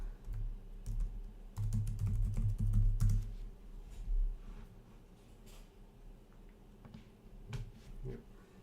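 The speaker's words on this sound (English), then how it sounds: "going to type my email" Typing on a computer keyboard while entering an email address: rapid clustered key taps in short bursts, close and fairly quiet, with pauses between runs and a soft background hum.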